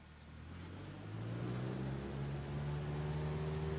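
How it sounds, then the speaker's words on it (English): A light aircraft engine in the Flight Simulator X game rises steadily in pitch and loudness as the throttle is increased, a continuous droning hum with no talk. "I'm going to increase throttle without applying rudder."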